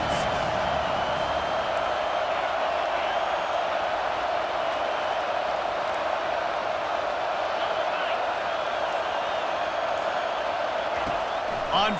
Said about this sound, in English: this crowd is coming to help the defense